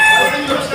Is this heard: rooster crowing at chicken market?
yes